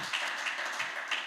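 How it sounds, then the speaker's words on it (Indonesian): Church congregation clapping during a worship service, a quick run of rhythmic hand claps at an even pace, close and fairly bright, with no talk over it. "Kasih tepuk tangan ya buat Tuhan."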